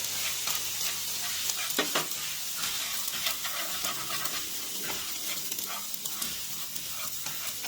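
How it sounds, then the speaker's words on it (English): Rice stir-frying in a pan with fish sauce and MSG gives a steady, close sizzle throughout, broken by scraping and clattering as it is stirred and tossed, with no talking. "now we need to put the fish sauces into the pan and put the MSG into the pan too"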